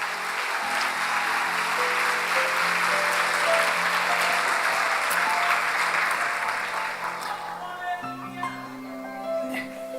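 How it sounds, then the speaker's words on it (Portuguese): Church congregation applauding at a Lord's Supper service, a dense steady wash of clapping that holds for most of the span and thins toward the end, with low sustained organ or keyboard tones underneath. "Quem crê e recebe, dê um aplauso ao Senhor Jesus."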